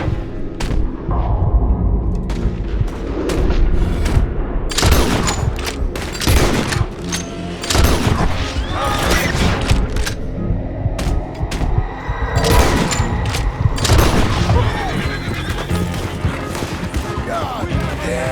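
Rapid gunfire in Red Dead Redemption 2, with repeated loud shots and booming bursts crowding the whole stretch, some overlapping in heavy volleys, while voices shout over the shooting.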